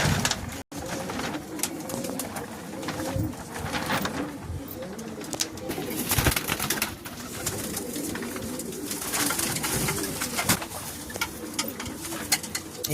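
A crowded loft of short-bodied Black Diamond pigeons keeps up steady overlapping low cooing, close by and continuous, with scattered clicks and wing rustles throughout.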